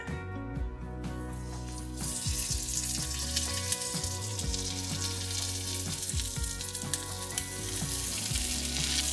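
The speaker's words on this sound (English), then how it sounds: "I'm just gonna let these fry up until they are golden brown on both sides." Chicken and mozzarella filled tortillas fry in a skillet, a steady close sizzle with faint crackles and occasional soft pan clatter running throughout, no talking.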